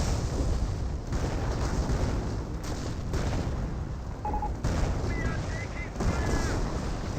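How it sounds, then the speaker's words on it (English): Artillery barrage in a Company of Heroes match shelling a machine gun placement, heard as a dense continuous rumble of booms and gunfire throughout, with game sound effects layered over it and no clear separation between individual blasts. "He's barraging the machine gun placement."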